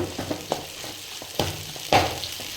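Grated coconut stirred into fried masala in a pan: a low sizzle under several scraping, clattering stirs of spoon against pan, irregular and close, with no talking.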